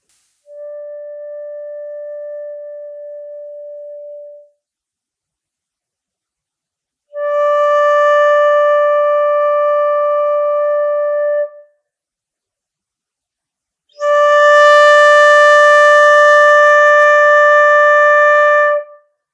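Three sustained pure tones from a tuner and flute, each lasting several seconds and separated by silence, the later ones louder and richer in overtones, heard alone with no talking.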